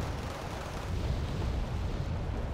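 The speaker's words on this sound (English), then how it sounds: "And a lot of bombs being dropped in that forest." Bombs exploding in a forest in Wargame Red Dragon, a continuous low rumbling roar of distant blasts, fairly faint and steady with no speech.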